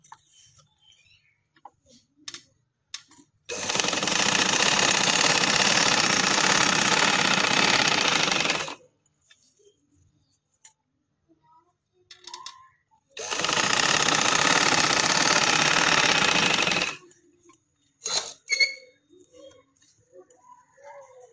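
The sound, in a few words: sewing machine stitching invisible lace onto a slit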